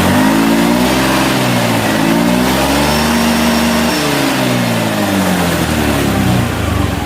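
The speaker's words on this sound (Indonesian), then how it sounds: "Digeber enak, cuman dia posisinya nggak mau naik normal." Honda Beat FI scooter with a weak fuel pump, its engine revved hard in repeated rising and falling swells, loud and close with a buzzing mid-pitched tone and no speech.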